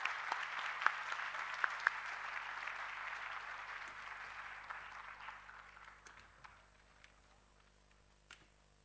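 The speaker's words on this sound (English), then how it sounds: "Please give him a huge round of applause." An audience at a speech contest breaks into a round of applause, a loud dense burst of clapping that gradually thins and fades, with a few scattered claps near the end.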